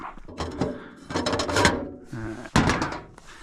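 The door of a hunting feeder's box on a Texas property creaks and clunks open, with a couple of close, loud mechanical knocks and a short scraping rattle, no voices.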